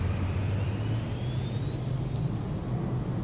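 Cirrus Vision Jet in the MSFS 2020 flight simulator on its takeoff roll: a steady, loud low engine rumble with a faint rising whine above it, continuous and without pauses, and no talking.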